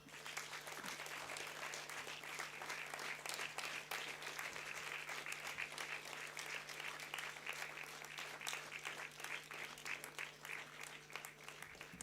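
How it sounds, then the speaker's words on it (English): Sustained audience applause at a university convocation ceremony, a steady dense wash of many hands clapping throughout, with a constant low electrical hum underneath. "you need to bring out the best in you in applause"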